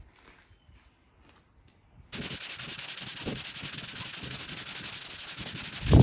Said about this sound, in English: we hit that with some Bondo and let's start sanding